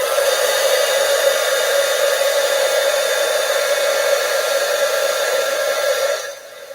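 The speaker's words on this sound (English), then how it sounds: "Just used my heat tool to emboss that." A handheld embossing heat tool blows hot air over embossing powder on a card, a loud, steady whirring roar with a tonal hum that runs unbroken close up and then abruptly cuts off near the end.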